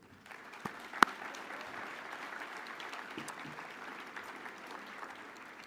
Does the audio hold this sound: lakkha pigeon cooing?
no